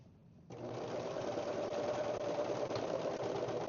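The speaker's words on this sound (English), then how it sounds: "now we're going to take our serger and just sew straight across that" A serger overlock machine stitches straight across sock fabric, starting after a short quiet pause and then running as a steady, loud, continuous motor whir for several seconds.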